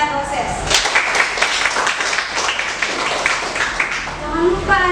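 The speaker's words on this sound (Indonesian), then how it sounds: "Tepuk tangan dulu untuk Elina" Classmates in an eighth-grade Indonesian language lesson applaud fellow students, a lively run of overlapping claps for several seconds, with voices audible at the edges.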